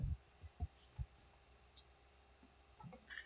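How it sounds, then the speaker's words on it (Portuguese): Faint, sparse keystrokes on a computer keyboard during a C programming lesson: a few separate clicks with gaps between them in a quiet room. "estou salvando aqui o que eu estou digitando no teclado"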